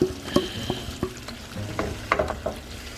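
Leftover marinade sauce goes into a pan of frying Afghani chicken, bringing scattered bursts of sizzling with clinks and scraping of stirring, fairly close, with no talk.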